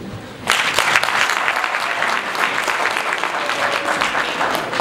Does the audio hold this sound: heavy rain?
no